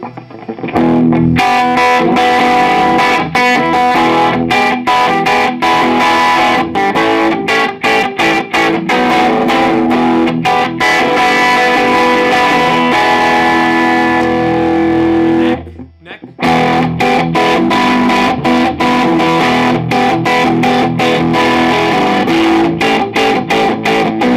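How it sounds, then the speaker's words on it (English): Gritty, tube-amp overdriven electric guitar on the neck pickup of a Tanglewood ES335-style guitar plays chords and riffs loudly and continuously, with a brief pause partway through. "Neck pickup sounds pretty mean with a little bit of overdrive."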